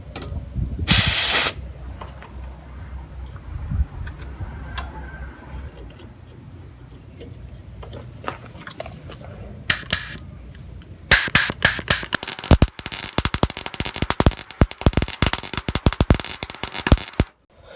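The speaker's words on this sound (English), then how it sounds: "So that's all welded up now." Welding a rotten floor section on a VW T4 van: a brief hissing burst, then a longer run of loud, steady crackling spatter close by, with no talk.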